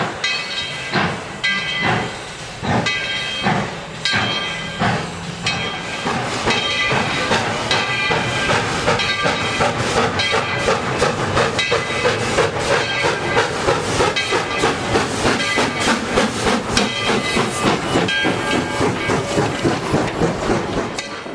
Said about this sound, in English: We begin with number 12 pulling out of Tweetsie Junction with another full train of passengers.